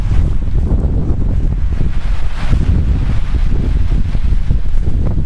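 Strong, violent wind roars steadily with broadband gusting rumble and buffeting low-end noise throughout, loud and close with no voices.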